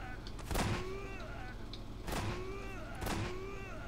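Three sharp gunshots in the video game Garry's Mod crack out at uneven intervals, each a loud, brief burst over a steady backdrop of game sound while a voice talks throughout.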